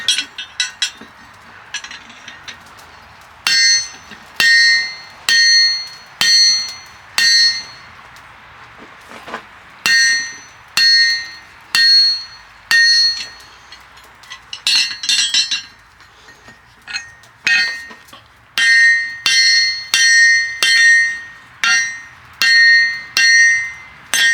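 A hammer strikes metal while a war hammer is being shaped, giving bright ringing clinks in quick rhythmic bursts of several blows with short pauses, about thirty close, loud strikes in all, with no talking.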